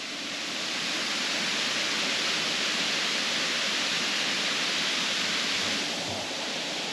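Waterfall near a deep river in the tropics around Nadi, Fiji, a steady broad rushing roar of falling water, close and constant with no breaks.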